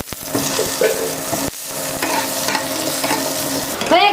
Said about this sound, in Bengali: ততক্ষণে এখানে আলুটা ভেজে নেব